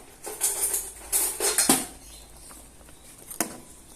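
A spoon scrapes and clinks against a cooking pot as food with a stock cube is stirred, several quick bursts of metallic scraping over about two seconds, then a lone clink.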